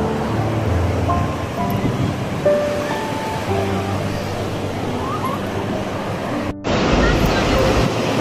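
Steady winter sea surf breaking on a windy Shenzhen beach, a continuous broadband wash of waves and wind with a brief dropout near the end and faint voices in the background.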